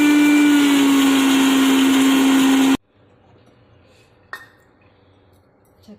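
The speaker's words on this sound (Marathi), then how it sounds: "मिक्सी घालून एकदा बारीक पावडर करून घ्या." A mixer grinder whirs loudly as it grinds roasted spices for a spicy mutton pickle into fine powder. It runs steadily for about three seconds and then stops abruptly, leaving near silence with one small clink.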